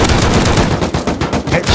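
Rapid automatic gunfire from the survival video game Rust, a dense, loud burst of shots rattling continuously in close succession with no pauses and no voices.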